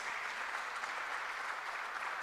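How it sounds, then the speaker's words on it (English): Church audience at Christ the King, Cantonments, applauding steadily for a speaker, dense even clapping from a large crowd at a constant level throughout. "Please give him a round of applause."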